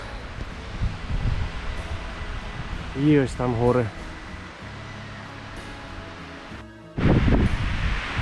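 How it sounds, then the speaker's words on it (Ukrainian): Wind blows across an open mountain meadow in the Carpathians, captured on a GoPro as a steady rushing roar with gusts. A voice speaks briefly partway through. "Я не знаю, що по звуку, тому що я записую на GoPro але досі вітряно."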